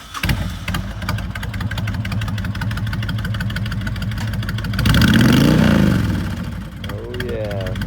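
A used 2005 Honda VTX1300S V-twin cruiser motorcycle engine idles with a steady, loping rumble, then revs up briefly around the middle before settling back to idle, loud and close throughout.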